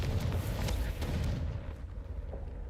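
Confringo fire spell blasts in Hogwarts Legacy, a loud booming burst with crackling rumble that gradually tails off, a faint later pop following.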